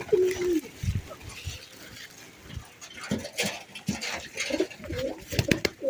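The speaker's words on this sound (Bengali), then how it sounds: "এই যে রয়্যাল কবুতর দাঁড়ানো দেখেন, রয়্যাল টেডি" Royal Teddy pigeons coo in a short, clear burst at the start and again near the end, with scattered wing shuffles and movement between, close by. A voice talks faintly in the background.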